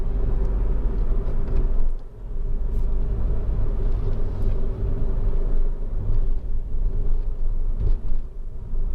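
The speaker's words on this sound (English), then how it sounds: "Driving along at speed" Honda Civic 2.2 i-CTDi diesel hatchback cruising at speed, heard from inside the cabin as a continuous low engine and road rumble with steady tyre roar and slight swells, no talking.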